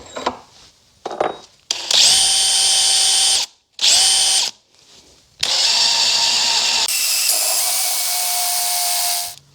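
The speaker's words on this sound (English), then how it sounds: "I'm gonna go ahead and get a drill bit and put a dimple down in there next." A power drill bores a dimple into metal on a 1971 Cadillac DeVille brake master cylinder, running loud and close in several bursts, with a steady high whine and short pauses between runs.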